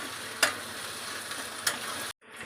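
Chicken with garlic and ginger paste stir-fried in a pan: steady close sizzle with two sharp scraping stirs, ending in a sudden brief silence before the frying resumes.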